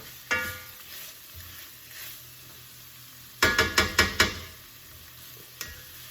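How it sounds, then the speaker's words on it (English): Three to four cloves of garlic sautéing in a pan for jambalaya: a low background sizzle broken by a quick burst of five sharp utensil knocks against the pan, plus a couple of isolated clinks, close and without talk. "Just let that saute for a minute."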